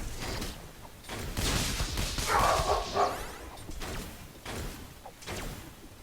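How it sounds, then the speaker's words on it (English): An old, senile dog barks indoors nearby while squirrels are outside, giving several rough barks and yelps spread across a few seconds over mechanical creaks and background noise. "Got a senile old dog over next to me, seeing squirrels outside."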